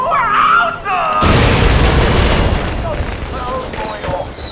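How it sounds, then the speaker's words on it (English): Loud explosions and booming blasts from fireworks-like detonations in the Borderlands 2 video game, a broadband roar sustained for several seconds after an opening stretch of chirpy game sounds, with whistling tones rising near the end. "I saw those explosions from here"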